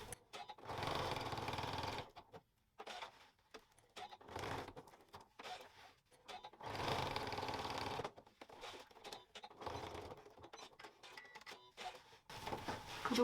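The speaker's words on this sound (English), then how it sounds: "I'm just stitching a box around the outside of the Velcro." A sewing machine stitches a box around Velcro on a double zipper pouch, running in steady whirring bursts of a few seconds each with short quiet pauses between, close but soft.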